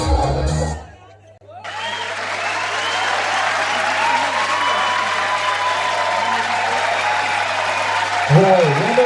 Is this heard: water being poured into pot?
no